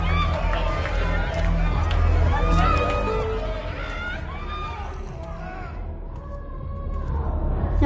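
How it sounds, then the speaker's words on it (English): Concert crowd around a mosh pit in front of a stage in the video game Life is Strange: Double Exposure, a dense roar of cheering and yelling over thumping music, fading somewhat before swelling again. "And a mosh pit opens in the smoky dark in front of the stage."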